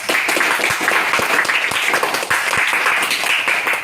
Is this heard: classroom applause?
yes